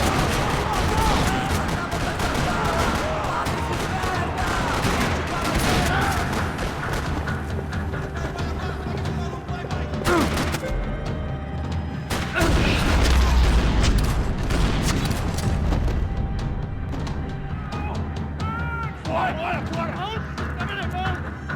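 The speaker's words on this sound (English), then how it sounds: "Another parking lot rattling with gunfire." Rattling gunfire fills a parking lot shootout in Max Payne 3, with repeated bursts and heavy booms over a dense, continuous din, and voices speaking through the action.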